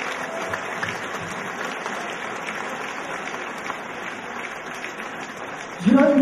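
Sustained audience applause at a Miss Orléanais beauty pageant, greeting Miss Orléanais 2012, a steady wash of clapping that runs evenly throughout, with a brief louder burst near the end.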